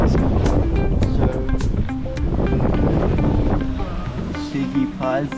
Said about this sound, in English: We got some wind and some waves, but I think tomorrow's gonna be worse.